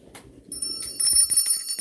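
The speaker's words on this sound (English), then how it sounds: "The doorbell." A doorbell rings indoors during a Monday evening livestream, a bright, sustained chime that cuts in sharply and keeps ringing loudly through the rest of the moment, with faint room noise before it starts.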